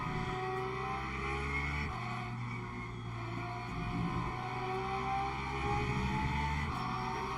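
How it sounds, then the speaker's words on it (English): A Porsche race car engine at Spa in the Le Mans Ultimate racing game drones steadily with rising and falling revs and gear changes, alongside other cars and a constant high whine, with no talking. "the Porsche engine definitely sounds the nicest of them all"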